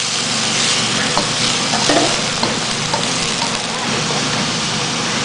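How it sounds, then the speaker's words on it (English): Szechuan pork stir fry sizzling steadily in a hot pan as sauce is stirred through it, a continuous close frying hiss with faint scraping of the utensil and no talking. "Then we can go ahead and add the sauce to our pork stir fry. and just mix until everything is mixed together."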